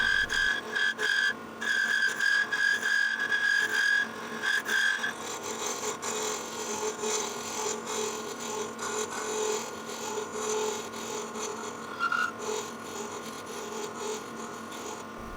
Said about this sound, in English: I use a larger hunter carbide tool to shape the contour of the outside of the miniature vase.